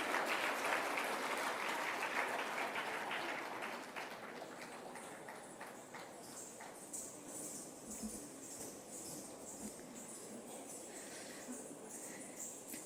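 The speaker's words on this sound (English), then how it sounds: "Can we have a loud round of applause for them" An audience at a conference celebrating the Dalai Lama's 90th birthday applauds a performance, loud at first and then settling into steady, slightly quieter clapping that carries on throughout.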